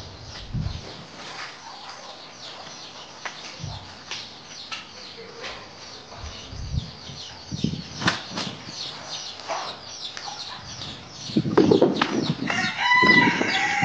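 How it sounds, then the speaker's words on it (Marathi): Farmyard chickens on a village morning, with a rooster crowing and hens clucking alongside wing flaps, mid-distance and fairly steady, getting louder toward the end. "जिजूची कोंबडी"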